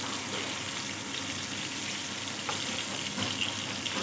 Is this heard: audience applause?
no